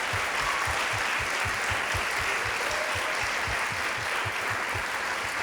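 An audience at an Ohio Teacher of the Year ceremony gives a sustained round of applause for the principals, an even wash of many hands clapping throughout.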